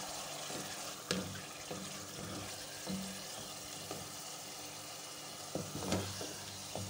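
Minced meat and potatoes cook in a pan for aloo qeema as their released water bubbles away, a soft, steady sizzle with scattered small pops and occasional stirring clinks, no talking.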